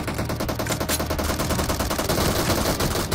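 Rapid automatic gunfire from the PUBG Mobile video game in a team deathmatch, dense machine-gun bursts firing continuously and loudly at close range, with no speech over them.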